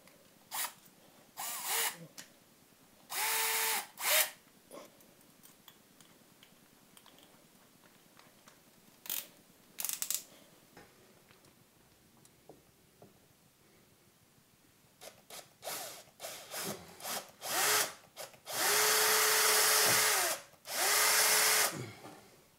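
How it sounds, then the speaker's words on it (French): An electric drill fitted with a concrete bit bores into a plaster ceiling in short, loud whining bursts, the longest run coming near the end, with brief pauses between bursts and no talk over it. "Donc nous avons perforé le plafonnage"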